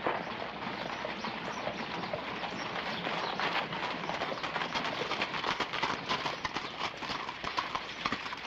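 Horse hooves clip-clop steadily on the ground in a western town street, with faint bird calls around and a busy outdoor background.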